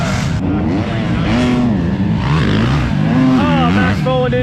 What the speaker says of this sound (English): there's Lesher on the two-stroke.